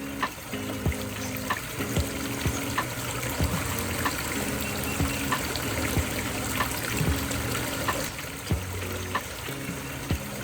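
Water trickles and splashes steadily down a backyard pondless waterfall in Fayetteville, Arkansas, a continuous close babble with scattered brighter drips and no voices.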